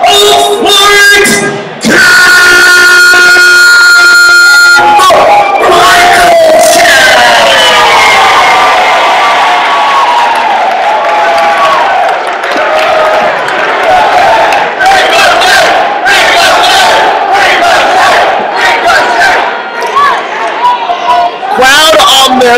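A loud, packed crowd at a House of Glory professional wrestling main event roars and cheers continuously, with yells and whoops rising throughout and a brief dip near the start.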